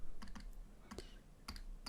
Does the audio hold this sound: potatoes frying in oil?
no